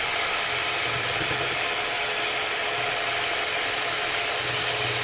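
Electric blender whipping a strawberry ice cream mixture, a steady loud continuous whirring drone throughout, close up and alone.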